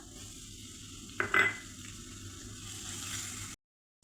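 Curry leaves, dal and crushed garlic dropped into hot oil for Kolhapuri bhadang, a low steady sizzle with a short sharp crackle burst near the middle, then an abrupt cutoff to silence.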